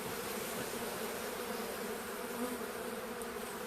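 A Buckfast honeybee colony hums at the hive during its winter emergence, a dense, continuous close buzz with no break and no voices.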